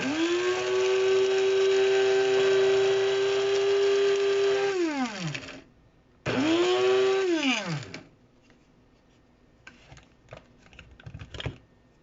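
A small electric grinder revs up twice to grind dried herbs for soap, each run a loud whining buzz that winds down, followed by quieter clicks and tapping of the grinder being handled.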